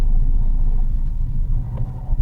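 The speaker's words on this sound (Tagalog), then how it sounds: "Traffic itong lugar na to." Road traffic heard from inside a car, a deep continuous engine rumble with low road noise, fairly loud and steady, with no talking.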